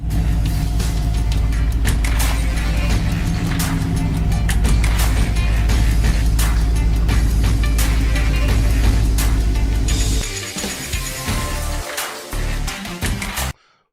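A car engine and exhaust drone steadily and loudly for about ten seconds, then cut to quieter, uneven rumbles and clatter before stopping.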